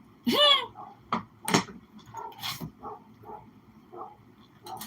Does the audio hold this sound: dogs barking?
yes